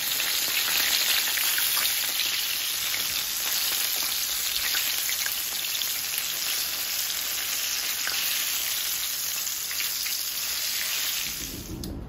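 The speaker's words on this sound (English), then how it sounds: "I finished deep frying all of my chicken in some oil" Loud, dense sizzling and crackling of chicken deep frying in hot oil continues steadily close up, easing slightly at the very end.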